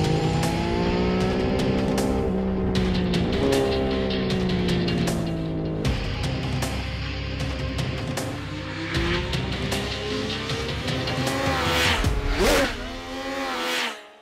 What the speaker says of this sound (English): This is the new Triumph Speed Triple 1200 RS.